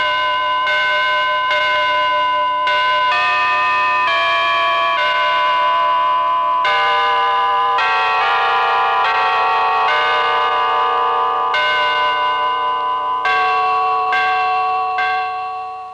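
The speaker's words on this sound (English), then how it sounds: "The tunes played on the carillon must be very simple and must be played rather slowly." Carillon bells ring out a slow, simple tune, one clear note after another with long ringing overtones, loud and close with no voices.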